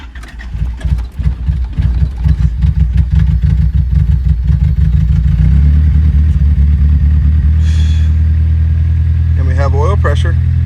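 A built Honda D16Y8 engine in an EG Civic cranks with the starter, then catches and settles into a steady, loud idle with a faint rattling clatter; someone talks over it near the end.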